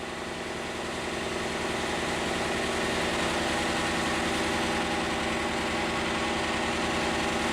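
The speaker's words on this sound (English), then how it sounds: "with the engine running that badly" A Kubota V2203 diesel engine with heavy blow-by idles roughly and steadily, its uneven low rumble and chugging pulses continuing loud and close throughout, with no voices.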